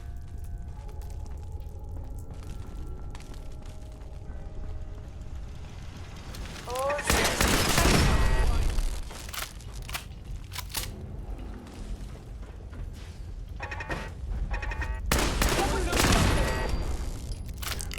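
Automated turrets at Bunker Hill in Fallout 4 fire in loud bursts of rapid shots, with a dense volley around the middle and another near the end, set against ongoing game ambience and combat noise.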